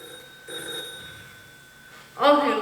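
A telephone rings in a radio mystery drama, a steady electronic tone heard up close with a change in pitch partway through, and a voice comes in over the end of the ring.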